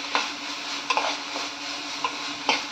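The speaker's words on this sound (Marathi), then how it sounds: "म्हणजे ते पण चांगलं परतून घेऊया आपण." Spice masala with bay leaf is sautéed in a pan while the shrimp rice is being made, giving a steady sizzle and scattered scraping taps of the spoon against the pan.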